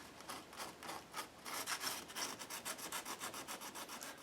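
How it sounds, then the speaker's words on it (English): Sandpaper rubs along the edges of an acrylic painting in quick, steady back-and-forth strokes, a soft scratchy rasp that speeds up partway through, close and quiet with no talking. "I'm going to bring in some sandpaper, and I'm just going to go along the edges of her."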